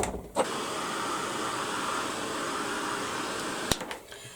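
A heat gun sets paint with a steady, moderately quiet blowing hum that switches on with a click and cuts off near the end with a couple of sharp clicks.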